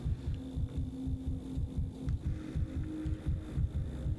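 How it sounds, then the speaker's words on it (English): A rapid heartbeat plays in Pathologic 3, a fast, steady, throbbing low thump repeating evenly over a faint hum, close and alone. "Heartbeat's too fast, but that could be a case of personal trait."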